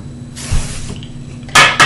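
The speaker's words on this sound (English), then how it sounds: "And then I do like a big spray with hairspray." Hairspray hisses from an aerosol can onto hair in a long steady spray, followed by two short sharp bursts, close and loud.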